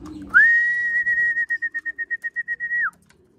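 A pet pigeon named Coco gives a single high whistle-like call that holds steady and then breaks into a quick run of rapid pulses before stopping, close and clear over a quiet background.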